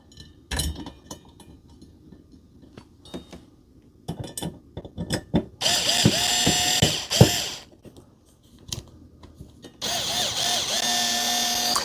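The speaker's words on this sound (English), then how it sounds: "It would help if I had the screwdriver set to forward and not reverse." An electric screwdriver driving a screw during a desk mount install, heard as scattered clicks and handling knocks followed by two sustained motor whirs that rise in pitch and then stop.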